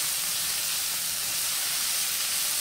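Kale sautéing in a pan while pasta cooks nearby, giving a steady, even sizzle and hiss that runs unbroken and fairly close throughout, with no voices over it.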